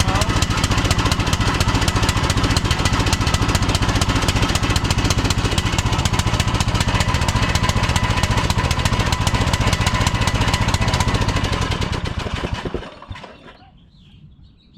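Troy Bilt Pony lawn tractor engine running with a replacement carburetor, a loud, steady, rough chugging close by that suddenly sputters and cuts out near the end, leaving quiet.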